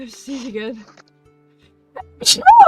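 A single sharp sneeze bursts out at the end, close and loud, after a few spoken words and a short pause.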